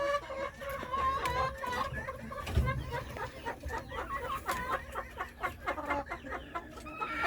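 Silver-laced Wyandotte chickens cluck in a steady run of short, close calls that overlap throughout, with a brief low thump partway through.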